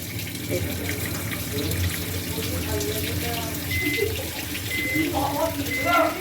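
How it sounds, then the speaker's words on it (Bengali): Tap water runs steadily over boiled pasta in a strainer for white sauce pasta, a continuous close rush of water with faint background sounds. "এবার এটাকে জল দিয়ে একটু ধুয়ে নেব, না তাহলে এর কুকিং প্রসেসটা স্টপ হয়ে যাবে"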